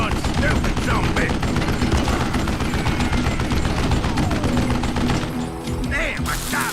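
Dense, loud gunfire fills a shootout in the video game Call of Juarez Gunslinger, with rapid overlapping shots rattling almost nonstop and easing only briefly near the end.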